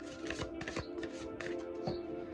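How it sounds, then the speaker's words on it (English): Tarot cards being shuffled by hand, a quiet series of quick papery riffles and soft slaps in irregular bursts, close to the microphone with no speech. "I'm going to do a quick reshuffle."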